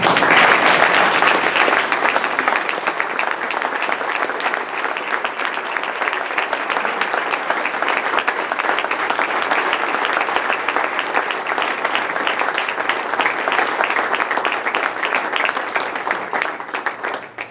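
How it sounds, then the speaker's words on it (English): A room of Rotarians and guests at a Columbia Rotary Club meeting applauds their new president, with loud, sustained clapping from a full crowd that holds steady before fading at the end. "Rotarians and guests, join me in applauding the 99th President of Columbia Rotary Club,"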